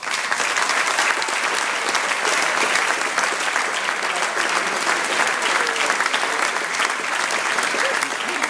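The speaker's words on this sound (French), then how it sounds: "merci d'applaudir l'abbé président de l'abbaye du Fusilier d'Ange, M. Grégoire Galland." Steady, dense audience applause fills the whole stretch for the president of the Abbaye du Fusilier d'Ange at a festive gathering in Denges, a large crowd clapping continuously without letup.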